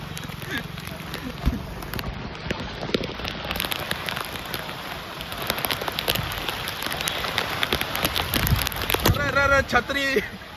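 Heavy rain pours steadily on surfaces on a flooded street in Nalasopara, a dense hiss with scattered louder drops, while people talk close by throughout.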